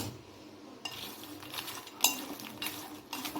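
A spoon scrapes and clinks against a pan as a ghee-roasted lotus seed snack is stirred together, with a few sharper metallic taps standing out over the steady mixing.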